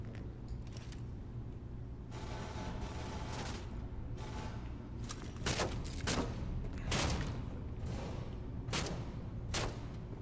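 Rapid bursts of gunfire crackle amid Cyberpunk 2077's mechanical din, several sharp volleys clustering toward the end, with no voices.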